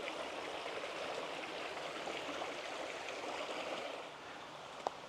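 Steady rushing babble of a creek flowing beside a pine campground, a soft continuous wash of water heard alone with one brief click near the end.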